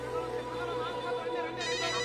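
A telephone rings in a Telugu movie scene with a steady electronic tone that holds throughout, over a soft background of indistinct voices.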